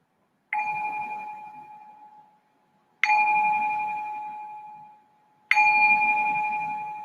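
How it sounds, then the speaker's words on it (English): A meditation bell is struck three times at slow, even intervals, each a clear, resonant tone that rings out and gradually fades before the next strike, alone in a quiet room. "I'm just going to ring the bell to signal the start of our first meditation"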